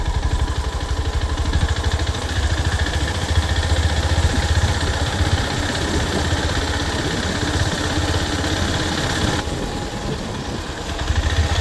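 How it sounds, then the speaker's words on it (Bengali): Loud, steady rumble of a motorcycle engine running nearby, constant throughout with a slight drop in tone near the end. "আমি জানি তোমরা খুব একটা বেশি শুনতে পাবে না, কারণ গাড়ির ইঞ্জিনের আওয়াজ হচ্ছে"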